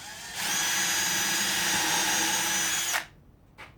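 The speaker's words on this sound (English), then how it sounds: "let's drill one hole here." Power drill boring a hole in wood for a footrest, a loud steady whine starting after a short pause and running for about two and a half seconds before stopping abruptly, followed by a brief faint blip.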